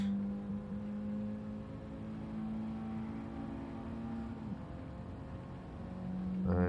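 A racing car engine in Gran Turismo 7 on PS5 drones steadily at a sustained pitch, dips briefly, and then revs up again near the end, with a constant whir underneath.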